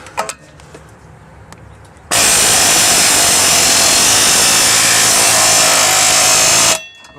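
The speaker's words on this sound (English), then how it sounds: "Let me try the air hammer one more time with the heat." A pneumatic air hammer driving against a heated wheel bearing hub on a 1997 Buick Park Avenue, one loud continuous rattling burst of about four and a half seconds that starts and stops abruptly, with no talk over it.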